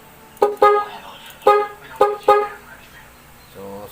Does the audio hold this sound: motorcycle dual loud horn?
yes